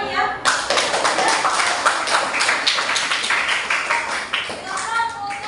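A classroom audience applauds a student group after their presentation, a dense, steady burst of many hands clapping close by for several seconds before tapering off near the end.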